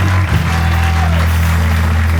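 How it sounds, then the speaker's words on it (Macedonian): Audience applause for Mile Kuzmanovski after a smell-guessing game, a steady wash of clapping that runs the whole time over a loud, low droning hum. "Аплауз за Миле Кузмановски."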